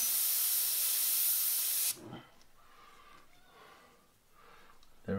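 An airbrush sprays paint over a stencil for a portrait, a strong airy hiss for about two seconds that cuts off sharply, followed by quiet faint rustles and breaths and a brief burst of spray at the end.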